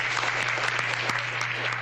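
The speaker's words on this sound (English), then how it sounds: "Clap it up." A brief, faint patter of applause from a small group during a podcast session, sitting over a steady low electrical hum.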